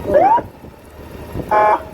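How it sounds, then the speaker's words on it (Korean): A siren fitted to a Honda Gold Wing 1800 motorcycle gives two short bursts, a rising wail followed by a steady tone, loud and close. "그다음 사이렌 소리 세 가지거든요"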